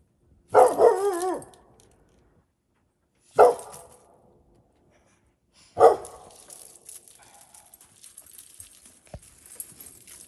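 A dog barks outdoors on a cold night, three separate loud, close barks spaced a couple of seconds apart, followed by faint background rustle.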